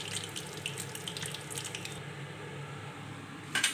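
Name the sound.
frying pumpkin flower fritters in oil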